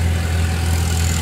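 A big boat's engine drones steadily nearby, a deep, even low rumble with a constant hum that never changes pitch or pace throughout.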